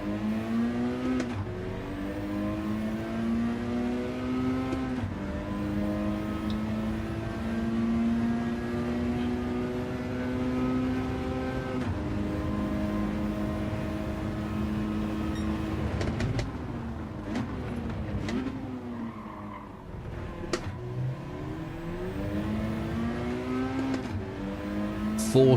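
A race car engine in a racing video game whines through sustained high revs, holding steady for long stretches, then dropping and climbing again through gear changes before the pitch falls away near the end.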